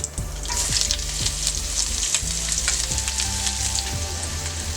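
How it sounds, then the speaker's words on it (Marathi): Onion and cumin sauté in hot oil for an egg masala fry. A bright, dense crackling sizzle fills the clip, with spatula knocks against the pan roughly every second and no one speaking. "कांदा चांगला परतून घेऊया"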